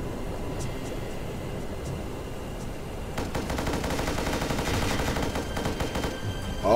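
Gunshots in the aerial combat game Air Brawl: faint steady hiss for about three seconds, then rapid repeated automatic-fire bursts ring out for the remainder at moderate loudness.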